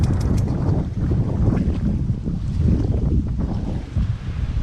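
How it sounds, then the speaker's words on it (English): Gusty wind roars across the microphone at an RV campground ahead of a storm. The low, buffeting rumble surges and dips continuously, with no talking heard. "It's getting windy."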